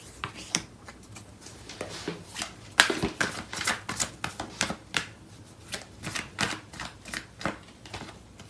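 Tarot cards shuffled by hand for a reading, a steady run of crisp riffling flicks and soft slaps close by, with no voices.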